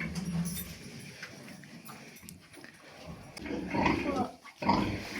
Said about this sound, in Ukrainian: Видите, Льоха лягає і кличе поросята.